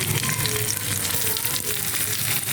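Steamed broccoli dropped into a pan of sizzling garlic and chilli for butter garlic broccoli, giving a steady, close, continuous frying hiss with faint stirring throughout, no voices.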